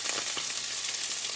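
Steady, close sizzling of spinach, onion and garlic frying in a pan, a continuous crackling hiss with small pops throughout and no talking.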